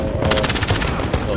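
Rapid automatic gunfire from the video game Call of Duty Modern Warfare, a dense burst of evenly spaced shots rattling loudly through the whole moment over a busy game soundscape.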